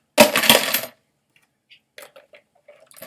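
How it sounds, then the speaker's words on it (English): Seven pennies dropped into a jar clatter together in a quick metallic burst, followed by a few faint scattered clinks settling. "I have 7 cents, also known as 7 pennies, and I'm going to put them in my jar."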